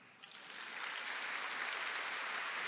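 Church congregation applauding after a Bible reading, a steady, fairly soft wash of clapping that swells slightly and holds evenly to the end.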